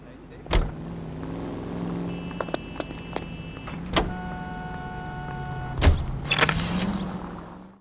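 Vintage police car cruising through 1940s Los Angeles in L.A. Noire, a steady low engine drone running throughout, with a few sharp clunks and thumps near the start, middle and end and brief tonal game sounds layered over the motor.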